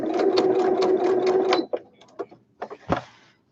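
A sewing machine stitches a fabric toiletry bag in a fast, steady run of close needle strokes, then stops, leaving a few short clicks and handling noises.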